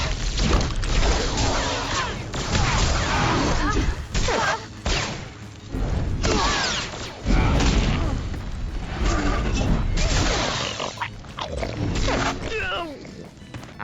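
Blaster fire crackles in the Star Wars: The Old Republic video game, a loud, near-continuous barrage of sharp shots and booming impacts with brief gaps between volleys.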